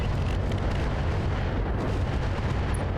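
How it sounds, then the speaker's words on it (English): A BattleTech mech unloads all its weapons at once, a dense continuous barrage of booming, rumbling blasts that fills the whole stretch loudly with no pauses. "Firing everything I've got."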